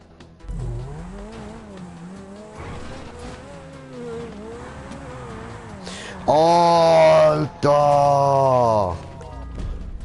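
A car engine in GTA 5 Online during a race on an Asian map, its pitch sweeping up and down through gear changes, then a loud, sustained burst of revving and tire squeal near the end, with a brief cut.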